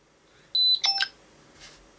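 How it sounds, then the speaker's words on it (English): A short electronic beep from an NFC reader module's buzzer sounds once, bright and sharp, followed by a quick second chirp against near silence. "the module will also emit a certain beep because it has a buzzer"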